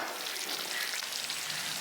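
A pot of Tamil garlic medicinal kuzhambu (poondu marundhu kuzhambu) simmering on the stove, a steady soft bubbling and hiss that stays level throughout, with no voices.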